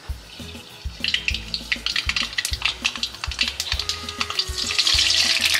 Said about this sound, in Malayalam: എണ്ണ ചൂടായിട്ടുണ്ട്. നമുക്ക് കടുകൊന്ന് പൊട്ടിച്ചെടുക്കാം.